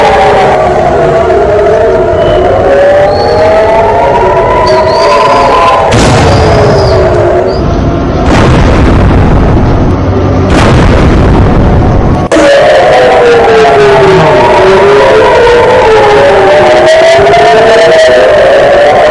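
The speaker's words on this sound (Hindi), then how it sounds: "पाकिस्तान की मिसाइल आई, इधर S-400 ने मिसाइल दागी और आसमान में गिरा दिया" Heavy booming blasts from an S-400 air-defence interception of an incoming Pakistani missile in the night sky, with two broad rumbling bursts set against a loud, continuous wavering siren-like wail.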